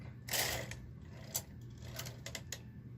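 A Brother KH-965i knitting machine carriage slides back across with clattering, ratcheting clicks and a few sharp taps over a steady low hum, close and moderately loud.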